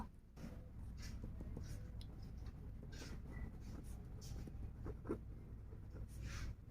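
Pen scratching on paper while writing out a class 9-10 math solution, a steady close rustle of strokes with brief pauses, running continuously under a low background hiss and no clear speech.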